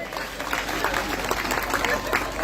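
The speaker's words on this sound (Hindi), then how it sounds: "एक बार इन बच्चों के लिए जोरदार ताली।" An audience claps for children at a Bhagavat Katha religious gathering, a dense burst of applause from a crowd. It sounds fairly close and lasts briefly.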